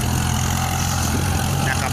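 Kubota L3608 tractor engine running steadily close by with a low rumbling drone and no breaks, while it pulls a two-bottom mouldboard plough turning under rice stubble.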